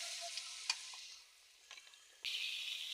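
Cut potatoes dropped into hot oil burst into a bright, hissing sizzle, with a short stir and a quieter lull before the frying flares up loudly again, close by and without talk.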